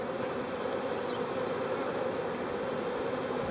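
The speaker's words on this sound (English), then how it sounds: "As you can see, the bees are moving into the hive." A honeybee swarm moving into a hive, fanning at the entrance, makes a dense, steady buzz that stays loud and close throughout without pause.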